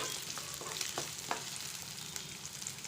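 Onion sautéing in hot oil in a pan for a vegetable curry, a constant close sizzle with a few light clicks of a spoon against the pan.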